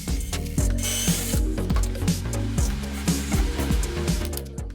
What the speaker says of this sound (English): connected them with the pocket hole screws